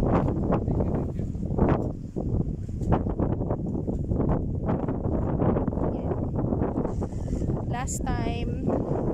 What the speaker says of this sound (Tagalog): Wow, sa lakas ng hangin.